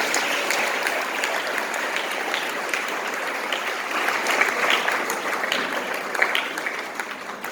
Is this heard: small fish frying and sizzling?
no